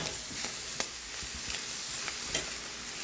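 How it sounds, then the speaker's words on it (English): Onions and bell peppers sautéing in a pan with cayenne pepper: a continuous bright sizzle broken by several soft stirring scrapes, close and alone with no voices. "So I'm going to let this here saute until my onions and things get translucent"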